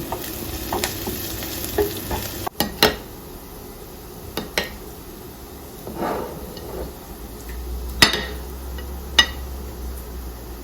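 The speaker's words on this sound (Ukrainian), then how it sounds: "цибульку підсмажую до золотистого кольору" Onion sizzles steadily in a hot pan as it fries to golden, punctuated by the scrape and clink of a utensil stirring.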